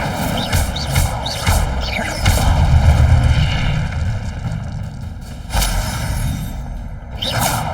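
Incendio fire spell in the Hogwarts Legacy video game, heard as loud whooshing bursts of flame and rumbling booms over continuous game music and ambience.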